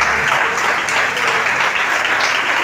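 A church congregation claps in a sustained burst of applause during a sermon, many hands blending into a loud, even patter that carries on from start to finish.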